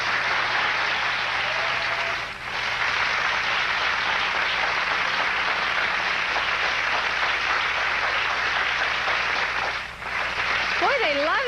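A studio audience claps, cheers and hoots steadily for a long stretch, a loud continuous wash of applause with brief dips, ending in a few whistles.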